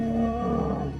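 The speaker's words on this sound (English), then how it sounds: "Kinky Tail roared while he was doing the damage." A lion roars in a fight, a deep, loud, sustained growling roar that stays close and fills the whole short moment on its own, with no talking over it.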